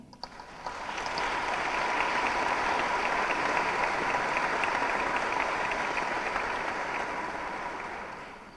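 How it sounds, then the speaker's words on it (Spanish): An audience at a university ceremony and conference breaks into warm, sustained applause that swells within the first second, holds steady for several seconds, then begins to fade. "Brindemos un caluroso aplauso en agradecimiento por su compañía."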